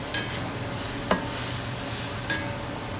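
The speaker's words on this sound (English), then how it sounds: "So all we do is just stir it." Tomatoes cook dry in a pan with no oil while a spoon stirs them, giving a steady soft sizzle with a few faint scraping clicks.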